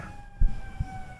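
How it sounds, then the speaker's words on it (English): Emergency sirens pass outside, their steady wailing tones faint and distant, with a couple of low thumps in the room. "Why don't we wait for the sirens to complete? To pass."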